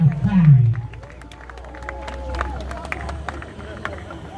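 A church wedding crowd in Kumasi gives scattered, sustained applause and murmuring to welcome the officiating minister. A louder burst of voices comes at the start, then steady crowd noise continues with people talking underneath.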